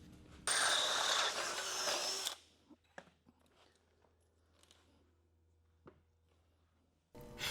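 A power tool runs in one loud whirring burst of about two seconds while installing a bolt on a Ridetech wishbone rear suspension clamshell, then stops, leaving faint clicks and a low hum.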